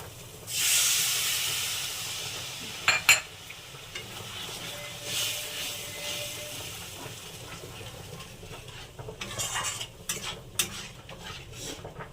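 Prawn malai curry gravy with milk bubbling in a pan, a steady soft simmering hiss with occasional stirring scrapes and clinks, fairly quiet and without talk.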